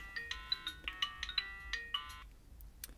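Worms Crazy game music chimes from a 2007 Sony Ericsson K550i phone speaker, a quick run of bright electronic tones in a bouncy melody, fairly close and clear, with no talking.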